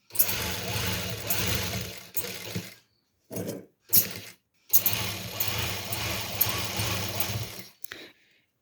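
A sewing machine stitches a petticoat in long steady runs of rapid mechanical whirring, close and fairly loud, broken by short pauses and brief bursts, with no talk over it.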